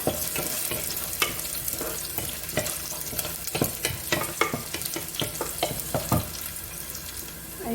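Chopped garlic fries in oil in a pan, a busy crackling sizzle broken by frequent sharp stirring clacks and scrapes, close and fairly loud, without speech.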